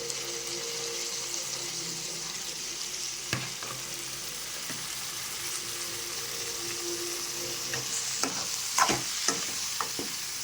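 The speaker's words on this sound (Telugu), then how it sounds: "ఇప్పుడు వాటిని మంచిగా కలిపేసుకుంటున్నానండి" Chopped onions fry for a country chicken curry while added ingredients are stirred in, giving a quiet steady sizzle with scattered scraping clicks that grow busier near the end, and no talking.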